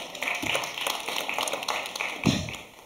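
Theatre audience at a Wind in the Willows performance clapping to vote on whether Toad should be fined, a continuous mid-level patter of many hands with a few louder individual claps and no voices.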